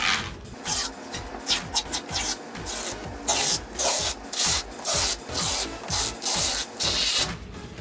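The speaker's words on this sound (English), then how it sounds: "I'm going to go ahead and peel this, and this is quite frankly the most satisfying thing." Protective film peels off an acrylic control panel in a long series of close, rhythmic crackling rips and rasping tears, each pull short and bright, with no talk.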